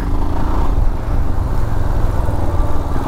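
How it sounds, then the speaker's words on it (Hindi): A Royal Enfield Himalayan motorcycle pulls away, its single-cylinder engine growling low and loud and staying steady near the listener throughout, with no one speaking. "चलो अपनी वापस से अपनी बाइक चलाते हैं।"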